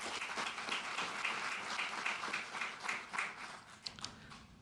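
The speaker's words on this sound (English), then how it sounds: "one round of applause for Astrolab" A seated audience applauds at a NASA announcement of lunar terrain vehicle providers, a steady patter of many hands clapping at moderate level for several seconds with a few sharper individual claps near the end.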